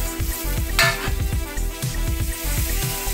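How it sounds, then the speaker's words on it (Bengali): Onions and tomatoes frying as the base for a koi fish curry, a steady close sizzle with a rhythmic series of spatula scrapes and knocks against the pan. "দেখুন বন্ধুরা, আমার পেঁয়াজ প্রায় ভাজা ভাজা হয়ে গেছে।"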